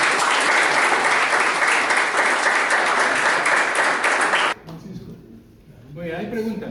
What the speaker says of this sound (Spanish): Y es ahora cuando ustedes aplauden